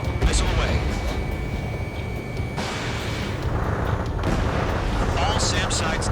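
Missile launches and heavy explosions in the Ace Combat 7 flight game, a continuous loud roar of booms and blasts under radio chatter from voices.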